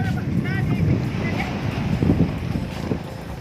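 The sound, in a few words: wind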